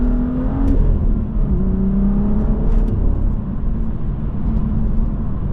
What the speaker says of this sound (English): I think you can hear the burbles, the burps during the gear changes more with ASD off.